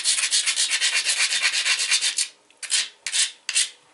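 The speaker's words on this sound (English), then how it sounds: "Let's grind this and call it a preform." Rough, rhythmic grinding strokes against the edge of a dacite flint-knapping preform, a fast steady scraping run that breaks into a few separate slower strokes, close and loud with no talk.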